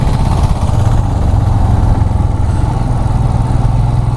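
Motorcycle engine droning loud and close at steady revs throughout, a constant low rumble while overtaking on a green mountain road on a Kochi to Munnar ride in Kerala.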